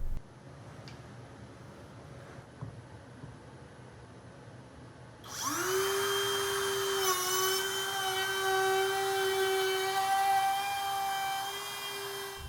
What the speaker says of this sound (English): I just take multiple passes with the router